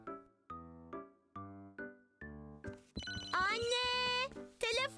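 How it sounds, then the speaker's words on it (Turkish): An electronic telephone bell rings in five evenly spaced bursts, close and clear, before a higher, lively voice starts talking over the last ring. "telefon çalıyor."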